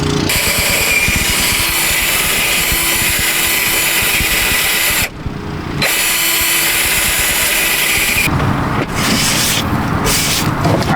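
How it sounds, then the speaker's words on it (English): A handheld power drill bores a hole for water tubing inside a car, running loud and steady for about eleven seconds with two brief stops and restarts. "Got the drill bit stuck in here."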